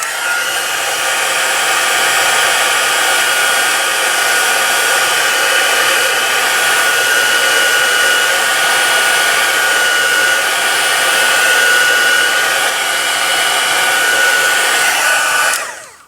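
A heat tool blowing steadily to dry ink on a card, a loud, continuous whirring rush of air with a faint whine that holds for about fifteen seconds before cutting off.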